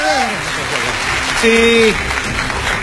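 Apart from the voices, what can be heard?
debate audience applause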